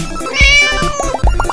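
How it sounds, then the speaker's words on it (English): A cat meowing loudly and close, a long drawn-out wavering meow followed by several shorter rising cries in quick succession. "Cat."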